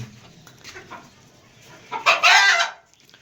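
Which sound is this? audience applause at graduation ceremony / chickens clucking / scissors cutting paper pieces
chickens clucking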